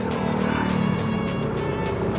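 Car engine running steadily in traffic during a Sunday ride to Baliwag, a continuous loud rumble with faint revving swells throughout, no voices.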